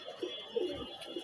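Pigeons coo softly nearby in a quiet loft, a few low murmuring calls rising and falling over a brief moment.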